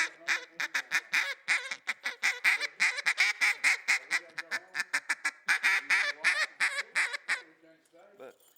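A double reed duck call blown to imitate ducks, a rapid, loud, close string of nasal quacks and clucks with a few brief pauses, then trailing off.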